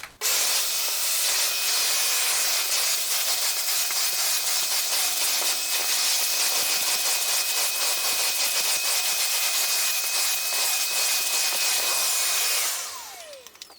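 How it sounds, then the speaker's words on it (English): Vacuum cleaner with a regular brush attachment run over a mattress, a loud, steady close-up roar with a high whine that carries on unbroken, then winds down at the end. "Let's start vacuuming. So you can just use your regular brush attachment here."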